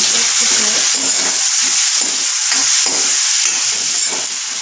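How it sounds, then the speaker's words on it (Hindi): Onions sizzling steadily in a pan as they cook until brown, a close, continuous hiss with soft stirring scrapes throughout. "प्याज को अच्छी तरह ब्राउन कलर आने तक पकाएं।"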